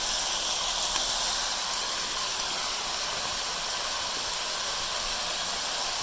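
Spices for aloo pulao frying in hot oil, a steady loud hiss and sizzle with no talking.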